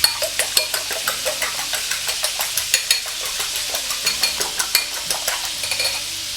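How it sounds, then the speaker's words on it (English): Eggs are whisked by hand in a bowl, a quick, even run of close clicking and tapping strokes that keeps a steady rhythm throughout, with no talking. "I'll go ahead to whisk some eggs"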